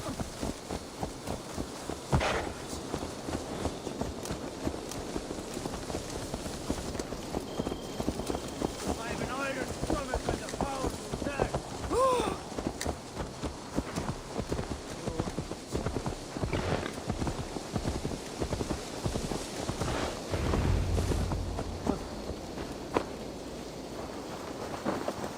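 Horse hooves clip-clopping in a steady rhythm as a rider travels in Assassin's Creed Valhalla, under game music, ambience and occasional voices.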